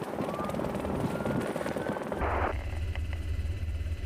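A helicopter flies in a mock car chase at a U.S. Customs and Border Protection air show, its steady rotor drone loud and continuous, deepening into a heavy low throb partway through.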